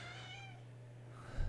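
A house cat lets out a long, drawn-out wailing yowl that rises and falls, fairly close and loud over a steady electrical hum, then fades into rustling and a brief thump.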